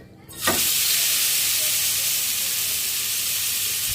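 Marinated chicken piece placed on a hot tawa, bursting into a loud, steady sizzle right after a brief quieter moment and holding strong and close throughout.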